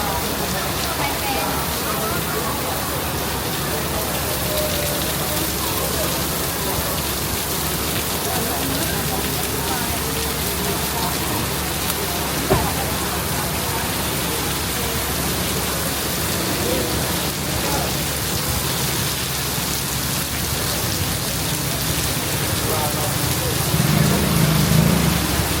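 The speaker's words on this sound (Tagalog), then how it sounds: "Malakas ang ulan." Heavy rain pours down steadily in Singapore, a dense, continuous hiss of drops drumming on surfaces close by, with faint voices talking now and then beneath it.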